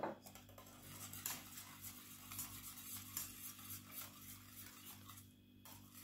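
Blanquette de poulet sauce stirred in a pan, a steady soft scraping and swishing with light utensil clinks against the metal and a faint sizzle, continuous and close for several seconds.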